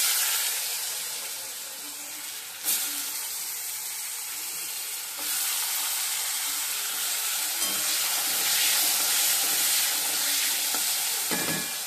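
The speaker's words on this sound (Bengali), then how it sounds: "দিয়ে দিয়েছি, আলুটা ভেজে নেব" Potatoes sizzling in hot oil with cumin seeds in a home Bengali kitchen, a loud steady hiss of frying with occasional stirring scrapes and crackles rising and falling.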